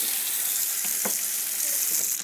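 Tap water runs steadily into a standard cereal-sized bowl, a continuous close splashing hiss with a few brighter spatters, ready for mixing cornstarch gravy.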